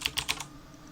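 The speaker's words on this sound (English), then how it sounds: "The typing in this is a little weird." Computer keyboard typing a ship name in the space strategy game Stardrive, four quick, quiet key clicks in a burst close to the microphone, then faint room tone.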